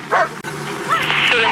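A police K9 dog at a suspect arrest gives short yipping barks and whimpers, loud and close, with a brief break in the middle.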